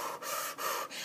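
Heavy, rapid breathing during a spiritual practice: three quick rhythmic breaths, close and loud, with no voices.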